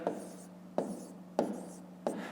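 Pen or marker strokes write out the subtraction 605 minus 219, with four distinct scratchy strokes spaced roughly evenly, each starting with a sharp tap and trailing off softly, close and quiet.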